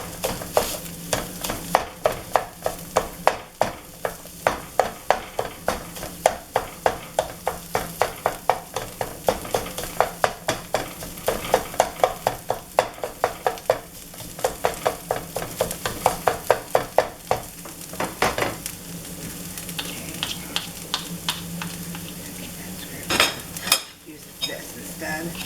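Meat is chopped up in a hot pan while it cooks, like hamburger meat, with a spatula striking the pan in quick repeated taps over a steady sizzle, the tapping slowing and thinning out toward the end.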